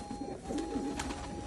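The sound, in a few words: pigeons cooing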